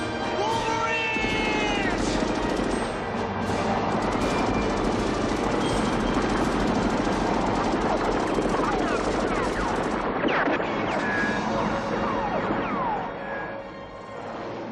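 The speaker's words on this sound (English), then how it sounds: "Robert, played by C. Thomas Howell, goes down in a storm of bullets from a Russian helicopter" Sustained bursts of machine-gun fire from a Russian helicopter rattle over a loud, thrumming rotor and engine drone, with scattered shouts and chaotic action noise throughout, from the film Red Dawn.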